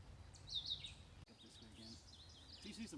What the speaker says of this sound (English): Hear the birds, pretty area.